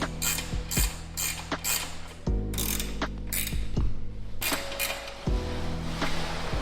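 A ratchet tightening the bolts on a FunBikes Viper 125 during assembly, bursts of close, sharp, rapid clicking broken by short pauses where the tool is repositioned, loud and with no voices.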